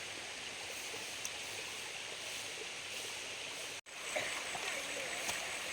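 Steady broadband rush of a stream beside the Huai To waterfall, fairly faint and continuous, with a brief dropout partway through.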